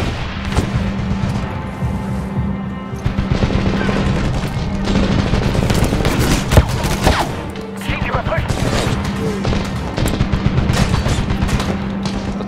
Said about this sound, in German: Oh, Granate!